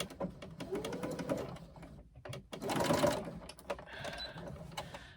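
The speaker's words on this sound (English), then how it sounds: "And I've got that slippery leather that doesn't like sewing." A sewing machine stitches slippery leather for a shoulder bag in quick rattling bursts, pausing briefly between runs of rapid mechanical clatter, close and fairly loud.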